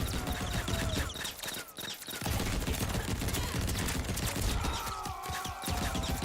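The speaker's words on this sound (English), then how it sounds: "Lots of bullets there." Rapid, dense gunfire from the Mortal Kombat fighting game rattles almost nonstop, breaking off briefly after a couple of seconds before the bullets pour in again just as loudly.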